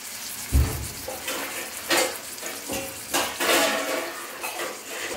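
Masala-stuffed brinjal being added to a hot pan, a soft sizzle with several clanks and scrapes of utensil against the pan at irregular intervals.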